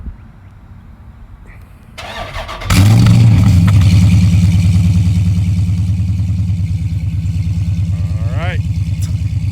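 A powerful muscle car engine, a Dodge SRT 392 or Hellcat, cranks and roars to life, then settles into a loud, deep, throbbing idle close by.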